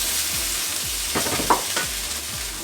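Boiled sweet potato is stirred into a hot pan of sizzling vegetables for a vegan meal, a close sizzle with rhythmic scraping strokes of the spoon and a brief clink.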